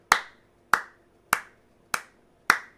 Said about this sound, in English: Who can applaud Shorty with me?